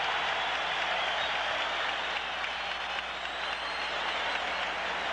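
A 12,000-plus boxing crowd applauding at the Sydney Entertainment Centre after a round ends, a steady, loud wash of clapping and cheering that holds for the whole stretch.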